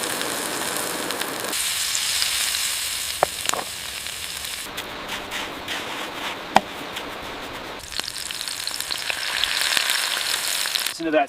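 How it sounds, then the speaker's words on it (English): A burger patty sizzles in a hot skillet over an outdoor campfire in the woods. The frying hiss is steady and close, broken by a few sharp clicks and taps. "Listen to that sizzle. That's the sound of a perfect crust forming on the Bushcraft burger."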